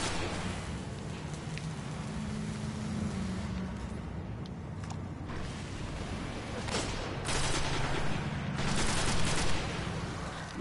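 Rapid video game gunfire crackles through a dense, noisy shootout, with shots and bursts layered over a steady low rumble of engines and action for the whole stretch.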